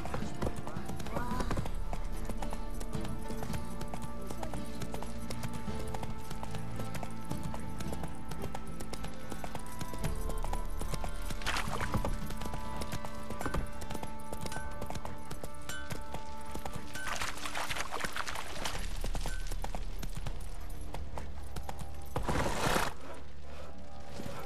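A horse trotting in the video game The Witcher 3, hooves clip-clopping in a steady rhythm over game music, with a brief whinny.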